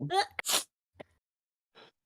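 A single sharp sneeze bursts out at the start, followed by a couple of faint short sounds and quiet.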